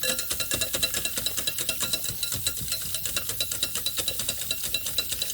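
A whisk beats milk and eggs in a bowl with fast, even, clattering strokes, about eight per second, close and steady throughout, with no voices.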